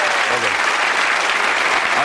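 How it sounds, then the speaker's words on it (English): Studio audience applause on the Bullseye game show, a dense, steady burst of clapping at close, even loudness throughout. "Give her a round of applause."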